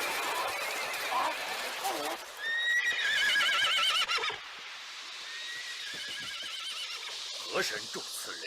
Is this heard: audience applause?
no